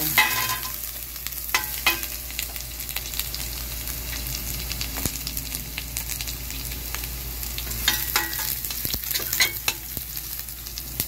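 Vegetables are stir-fried in a pan with chicken feet adobo, giving a continuous close sizzle broken by repeated sharp scrapes and clatters from stirring.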